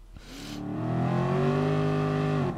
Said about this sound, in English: Oh my goodness. The sounds of that engine.